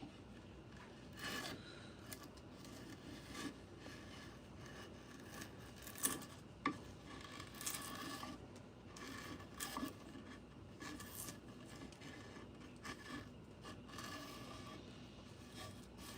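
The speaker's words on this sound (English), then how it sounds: "I think we can sand the rest off." An epoxy cutting board is sanded by hand with soft repeated rubbing and scraping strokes, close but faint, with a few sharper scrapes along the way.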